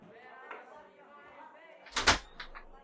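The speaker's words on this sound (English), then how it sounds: "Yo, who banging on the door?" A door is banged on in one heavy burst of knocks, loud and close, following quieter talk and household noise, with a couple of fainter knocks after.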